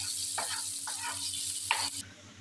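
Minced keema frying in a pan with masala tarka, a soft continuous sizzle with a few brief bursts of stirring, cutting off abruptly near the end.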